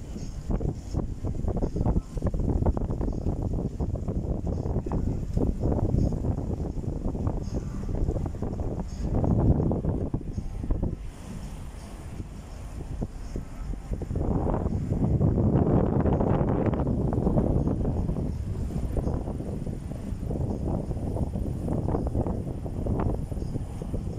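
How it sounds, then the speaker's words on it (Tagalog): Strong gusting sea wind at Manila Bay roars and buffets the microphone continuously, rising and falling in waves, with no clear voices. "At malakas ang hangin dito"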